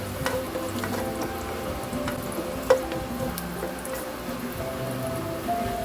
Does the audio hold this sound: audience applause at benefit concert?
no